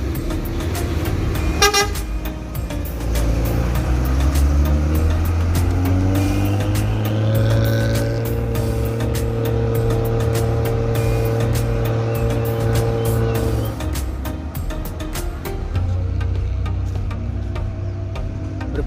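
A heavy ANS bus engine rumbles and revs as it pulls out of Balai Solok bus terminal, with a short horn toot early on and a steady low drone throughout.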